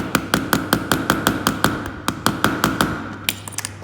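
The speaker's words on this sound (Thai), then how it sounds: "ค่อยๆตอกไปเรื่อยๆ" Small hammer tapping a pin out of a Casio watch strap, about fifteen light, evenly spaced metallic taps close by, slowing to a few softer knocks at the end.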